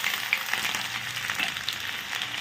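Chopped ginger frying in a pan for chilli broccoli, a soft steady sizzle with light crackles, fairly quiet and close.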